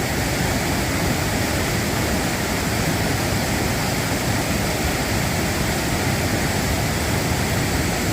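Stream water on the Appalachian Trail rushes in a dense, continuous, even hiss that stays loud and unbroken throughout, with no voices over it.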